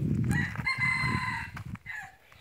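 A junglefowl rooster crows once, a drawn-out cock-a-doodle-doo at moderate distance, with scattered background noise and faint clucking around it.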